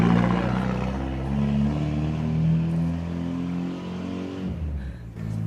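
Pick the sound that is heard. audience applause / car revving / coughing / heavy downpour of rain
car revving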